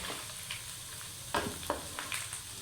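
Garlic ginger paste fries in hot oil for a Punjabi sarson ka saag tempering, a close, steady sizzle broken by a few sharper crackles and stirring scrapes, with no talk.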